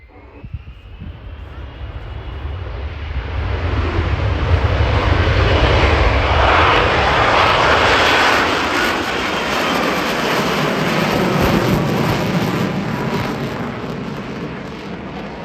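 An F-35 jet engine spools up for takeoff at an air display, a broad roaring whine that swells steadily over several seconds, holds loud, and eases slightly near the end.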